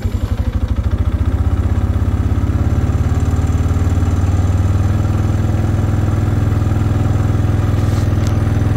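A motorcycle engine idles steadily and close by, its even low putter running unbroken throughout while a wideband air-fuel mixture meter is being tested on it.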